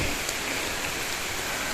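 Steady rain falls through a forest during a damp mushroom-picking outing, a soft, even hiss of drops on leaves with no voices.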